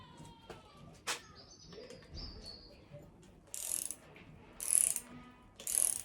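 A torque wrench tightens bolts at 7 foot-pounds on a CB Performance 2017cc long block engine, with a few loud ratcheting clicks in short bursts near the end, close to the listener, and no talking.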